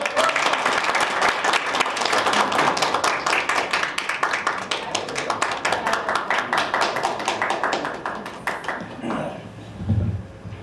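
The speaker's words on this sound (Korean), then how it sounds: "우리 조존윤 내셔널 디렉터님께 큰 박수 부탁드립니다" Applause at a BNI Korea chapter business networking meeting welcoming the national director, a dense burst of many hands that thins to scattered claps, then a voice begins speaking near the end.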